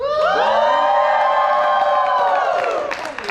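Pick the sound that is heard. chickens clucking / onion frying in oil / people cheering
people cheering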